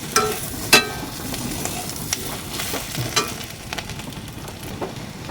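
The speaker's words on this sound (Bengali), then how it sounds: "সেদ্ধ করে রাখা সুজিগুলো দিয়ে দেব এইভাবে এক থেকে দেড় মিনিটের মতো ভালো করে নাড়াচাড়া করে নেবো" Boiled semolina being stirred in a hot pan, a low sizzle with scraping and clinking from a spoon against the pan at irregular intervals, fairly close, no talking.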